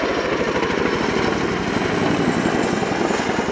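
A Boeing Chinook HC 6A twin-rotor helicopter performs a flying display, producing a loud, continuous rotor thump and engine roar that stays steady and close throughout.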